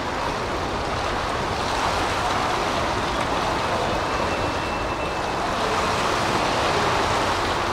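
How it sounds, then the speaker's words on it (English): Hurricane Katrina floodwater rushing outside the Mississippi Gulf Coast Coliseum, a loud, steady broadband roar of water and wind that continues without a break. "That's the water outside the Coliseum."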